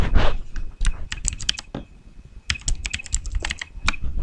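Typing on a computer keyboard while entering text into an Excel spreadsheet: quick clusters of sharp key clicks in bursts, a brief pause near the middle, then more rapid tapping, close and clear with no talking.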